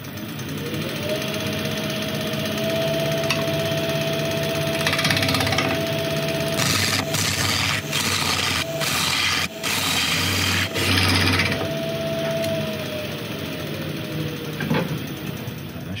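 A woodturning lathe hums steadily as a tool flattens the top of a yew blank, with a sustained motor tone and bursts of scraping cutting noise in the middle.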